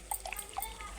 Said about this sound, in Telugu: మిక్సీ జార్లో కొద్దిగా వాటర్